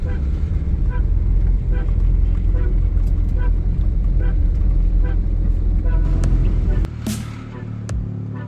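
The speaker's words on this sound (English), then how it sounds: "Little noisy, might have an exhaust leak." Honda CRX Si with a possible exhaust leak, running with a loud, steady, slightly raspy engine and exhaust drone close by for most of the stretch, then dropping off near the end as a brief hiss rises.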